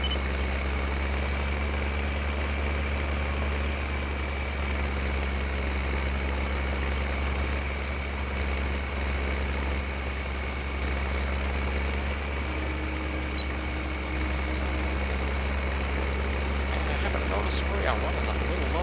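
A tractor engine idles in Farming Simulator 15, a steady low droning hum with a constant whine, loud and unbroken throughout while someone talks over it.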